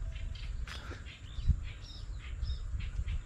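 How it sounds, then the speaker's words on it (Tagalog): Scattered harsh, chattering shrike calls repeat at a moderate distance over a low rumbling background. "naririnig yung huni ng mga tarat"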